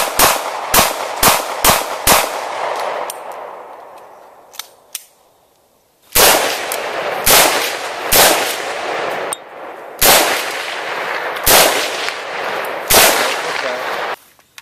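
Gunshots ring out at a Texas shooting range, a quick string of sharp, loud cracks with echoing tails, then spaced single shots after a pause, close by and dominating the scene.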